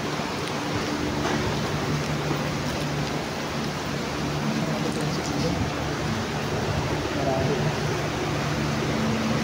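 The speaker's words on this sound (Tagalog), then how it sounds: "Lakas ng ulan." Steady, dense rain hisses continuously throughout in Manila, a heavy downpour with a broad wash of noise and no pauses.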